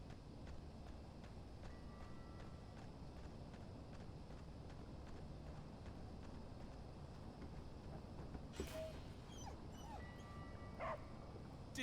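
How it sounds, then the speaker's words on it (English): A faint dog whimper and small yips come from the video game Oxenfree II. They rise briefly near the end over a steady, low ambient hum, and no one talks. "it was like a dog"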